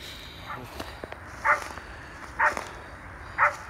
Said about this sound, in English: he's barking at something over here